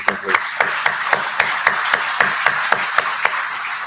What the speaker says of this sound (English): I'd just like to just call out a round of applause for them right now